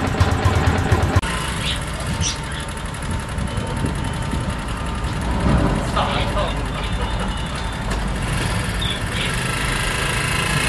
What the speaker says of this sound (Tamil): ஃபர்ஸ்ட் ஸ்டார்ட் ஒழுங்காக ஓடுது வண்டி, ஆனால் ஐட்லிங் ரொம்ப கம்மியாக இருக்கு